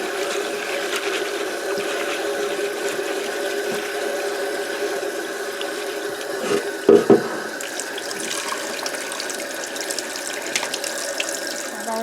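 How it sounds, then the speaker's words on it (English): Tap water runs steadily into a kitchen sink as pinto beans are washed, a constant close splashing hiss with a brief louder slosh partway through. "I usually wash my beans about 3 times."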